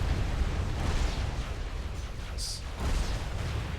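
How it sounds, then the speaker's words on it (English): Rockets and artillery firing in the Supreme Commander 2 strategy game, a dense, rumbling wash of booms and explosions with a brief sharp hiss partway through. "I don't know why he fires rockets now."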